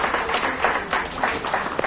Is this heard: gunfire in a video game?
no